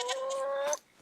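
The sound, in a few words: pet hens clucking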